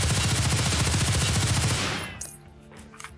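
HK rifle in Escape from Tarkov firing rapid full-auto, a dense, loud stream of shots for about two seconds that cuts off, followed by faint mechanical clicks of handling.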